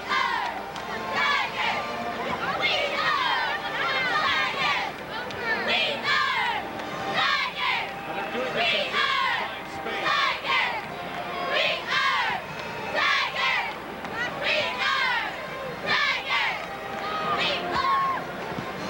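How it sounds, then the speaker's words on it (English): A high school crowd chants a rhythmic cheer at a 2002 Illinois boys basketball quarterfinal, many young voices shouting in repeated bursts that fill a large, echoing gym from start to finish. "Anybody know what this cheer's called?"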